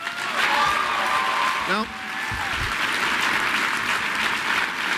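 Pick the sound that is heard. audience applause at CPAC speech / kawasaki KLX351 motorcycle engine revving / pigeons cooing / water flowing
audience applause at CPAC speech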